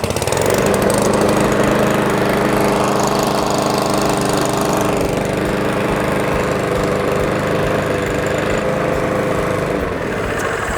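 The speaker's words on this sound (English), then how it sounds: "that's the Cobra RM40C, a great little rotary mower with a rear roller" A new Cobra RM40C rotary lawn mower with a rear roller runs its small petrol engine at a loud, steady, close roar with a rough mechanical rattle that holds throughout, with no one speaking.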